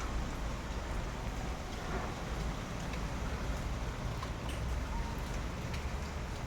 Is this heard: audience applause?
no